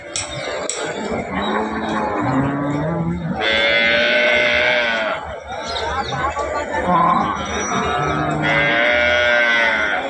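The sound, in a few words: cows at a weekly cattle market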